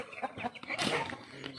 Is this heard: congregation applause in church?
no